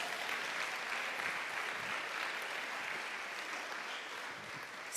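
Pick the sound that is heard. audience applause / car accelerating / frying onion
audience applause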